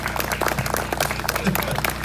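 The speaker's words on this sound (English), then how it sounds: "Let's give a great big round of applause to your mayor, Mayor Michelangelo James." Audience applause for the mayor at a Ware County 200th anniversary event, a dense, steady wash of clapping throughout with crowd noise mixed in.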